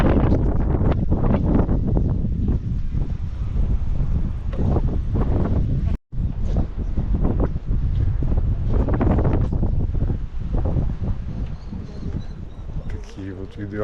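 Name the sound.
wind blowing on the Algarve coast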